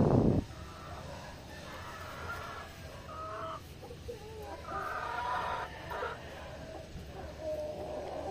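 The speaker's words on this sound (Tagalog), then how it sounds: "Yung mga inahin dun sa dulo." Hens clucking at a distance in an open yard, a scattered run of soft calls over steady outdoor background noise.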